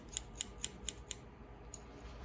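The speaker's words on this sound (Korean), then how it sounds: "여기에서 그대로 잘라주세요." Scissors snipping hair during a square layer haircut, six quick crisp close-up cuts in a steady rhythm followed by a pause and one final snip, with no talking.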